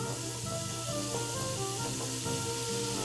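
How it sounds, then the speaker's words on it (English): Cold cubed butter hits a hot pan for a sage browned-butter sauce, giving off a steady hiss and sizzle, close and continuous, with faint background music underneath and no talking. "Cold cube butter going in."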